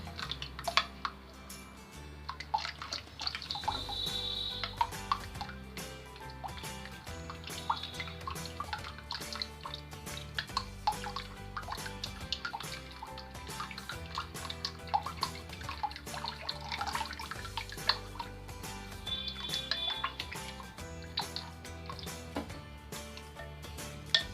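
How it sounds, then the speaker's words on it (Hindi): Water added little by little to gram-flour khandvi batter while it is mixed, with soft drips, splashes and wet stirring scattered over steady background music, close and fairly quiet, no talk. "अब हम इसमें थोड़ा थोड़ा करके पानी ऐड करेंगे और इसका बैटर तैयार कर लेंगे"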